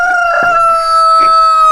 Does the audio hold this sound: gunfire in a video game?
no